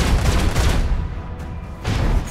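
Heavy ship gun salvo in Warhammer 40,000 Rogue Trader, a dense, continuous roar of booming fire that rumbles loud throughout, dips slightly midway, then surges again, with no voices.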